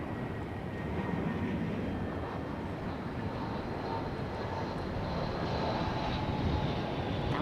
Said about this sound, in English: an A321 coming in from ORD Chicago